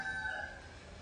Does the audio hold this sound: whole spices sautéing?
no